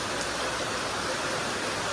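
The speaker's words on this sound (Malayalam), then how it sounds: "അയ്യോ അപ്പൊ മഴ പെയ്യ കാണുണ്ടാവും" Rain falls outside, a steady broadband wash of hiss at moderate distance with no distinct drops standing out.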